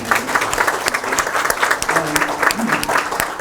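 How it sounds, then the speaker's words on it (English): Lively audience clapping at a Buddhist gathering in India, loud and close with distinct individual claps in an uneven rhythm and some voices underneath. "We clap so much we"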